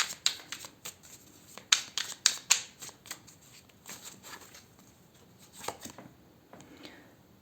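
Tarot cards are shuffled and drawn in a quiet room, a run of crisp riffling snaps and soft slaps in irregular bursts, close and clear with no talking.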